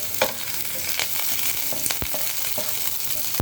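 Green chillies stir-frying in a hot pan with oil for paneer manchurian, a steady loud sizzle with repeated sharp scrapes and taps of a spatula against the pan.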